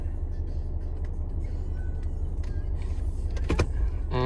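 A Volvo XC70 with a faulty rear right ABS wheel speed sensor reverses slowly. A steady, close engine and road rumble carries light clicks and a brief mechanical whir near the end.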